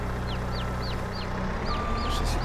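Chickens in the farming video game Farming Simulator 22 give a quick series of short, repeated chirping clucks over a steady mechanical drone, with a faint beeping tone in the background.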